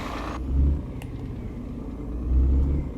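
A modelled bus rolling behind in an Xbox driving game, a low steady engine rumble with two swelling surges, no talking over it.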